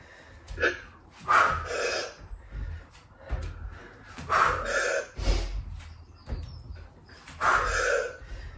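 Forceful exhaled breaths from a person doing a yoga HIIT workout, coming in sharp, rhythmic puffs roughly every one to two seconds, close and fairly loud with no talking.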